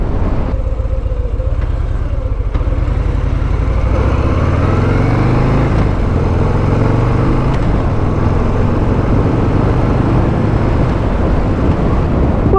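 A 2024 Harley-Davidson Breakout 117 motorcycle rumbles loud and close on a ride, its deep engine drone rising in pitch as it pulls ahead steadily.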